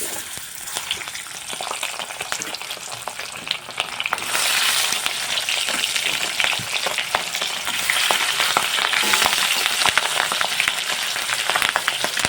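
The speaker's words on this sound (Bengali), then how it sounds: "এবার দিয়ে দেবো মাছের পিসগুলো একটা একটা করে তেলের মধ্যে" Silver carp pieces frying in hot mustard oil in a wok, in a Bengali village kitchen: continuous loud sizzling and crackling that grows stronger partway through as more pieces go in, with no voices.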